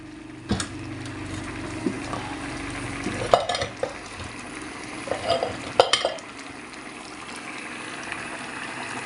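Vegetables tipped into a pan of sardine spaghetti hiss and sizzle steadily while a spoon scrapes and clinks against the pan in scattered stirring strokes.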